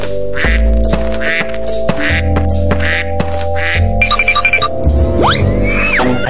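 A toy duck gives loud repeated quacking squeaks up close, mixed with jingling, clinking plastic and other toy noises.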